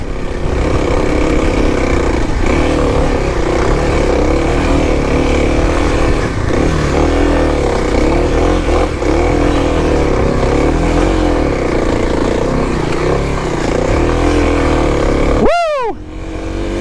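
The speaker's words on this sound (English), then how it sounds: "this thing, KLX, just chugs up anything you throw at it." A 2021 Kawasaki KLX300 off-road motorcycle chugs up a steep dirt hillclimb, its single-cylinder engine loud and close under steady throttle. A sharp rising-then-falling rev burst comes near the end.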